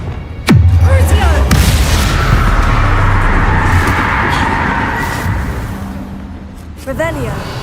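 A spell cast in Hogwarts Legacy bursts in with a loud booming impact, then a dense rumbling, crackling magical wash lingers for several seconds before a second burst near the end, with a voice speaking over it.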